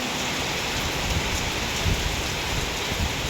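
Rain falling during a storm in rural Thailand, a dense, steady roar of heavy drops with brief louder gusts, no talking.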